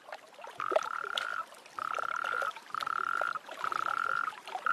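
Toads croak during the winter mating season in wild Iberia. Four long, even trilled calls repeat with short gaps, clear and fairly close, over a soft background of other faint calls.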